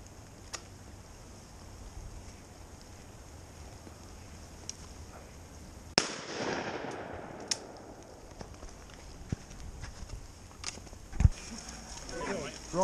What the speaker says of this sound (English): A shot.